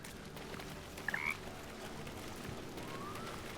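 A frog character croaks in a fantasy role-playing video game, a brief quiet croak heard once over a low steady background hum, with no talking.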